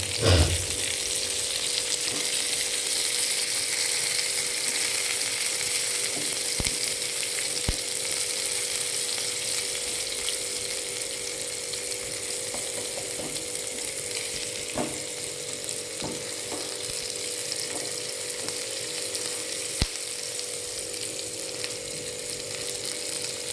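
Garlic and onion fry in a pan, browning together with a steady, close hiss and crackle that holds constant throughout, with a few faint clinks and no voices.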